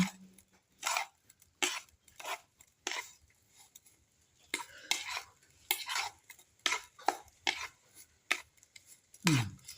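A spoon stirs and scrapes a sugar and rice filling in a bowl, about a dozen distinct scraping strokes in an uneven rhythm, close and fairly clear against quiet.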